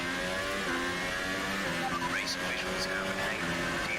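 A race car engine in the F1 2018 video game during a lap at the USA Grand Prix, a loud continuous whine with pitch swings through gear changes, with a voice talking over it.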